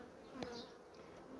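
Honey bees buzzing close by at a hive badly infested with varroa mites, a steady soft insect drone with a brief louder pass of a single bee early on.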